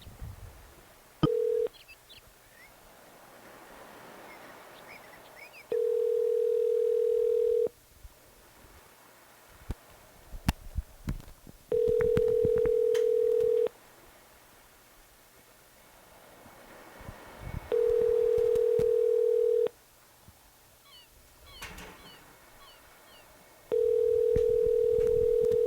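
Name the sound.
telephone dialing and ringing tone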